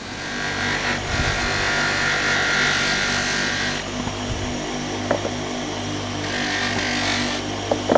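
A buffing wheel with jeweler's rouge spins in a small shed, a steady motor whir with a bright grinding hiss that swells during two passes of the workpiece, with small clicks in between.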